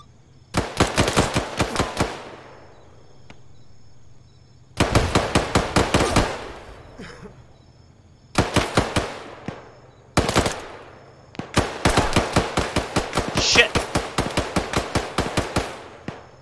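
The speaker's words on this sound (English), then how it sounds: "I was dealing with some live fire here." Loud automatic gunfire from a video game mission in the Spirit Campaign comes in several rapid bursts. The bursts are separated by short pauses, and a long sustained volley closes the sequence.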